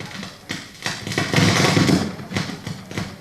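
Fireworks at a high school softball game come through a public address system as a loud, crackling, continuous rumble with several thumping bursts, distorted and alone without talk.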